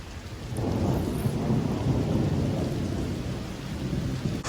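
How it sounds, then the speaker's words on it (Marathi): Heavy rain pours steadily at Alleppey beach, a dense continuous wash with a low rumble of thunder underneath; the downpour is close and loud throughout, with no voices. "पण सगळीकडे ना नुसता पाऊसच चालू आहे."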